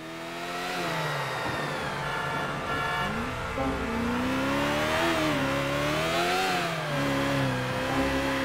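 A car engine in the video game Grand Theft Auto: The Ballad of Gay Tony revs and hums steadily, its pitch rising and falling as it accelerates and eases off, close and continuous with no talking.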